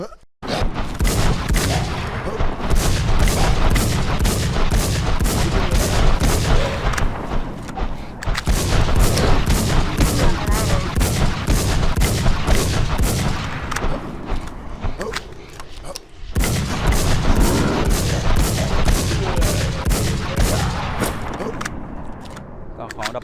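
Gunfire in a first-person shooter game: long bursts of rapid automatic fire in rhythmic volleys, with short pauses between them, loud and close, while someone talks over the shooting.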